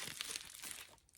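Crinkly plastic packaging being unwrapped at close range, a busy run of crackling and rustling for about a second before it thins out.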